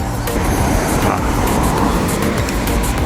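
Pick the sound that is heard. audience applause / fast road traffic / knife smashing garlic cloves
fast road traffic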